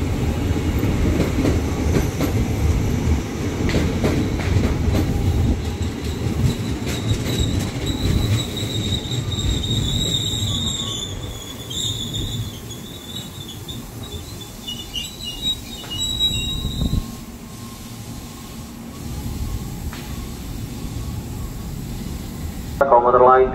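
A KRL Commuter Line electric train (JR 205 or TM 600 stock) rolls through the upper level of Manggarai station in Jakarta. A loud rumble and clatter of wheels comes with high squeals that fade as it passes, and a station announcement can be heard.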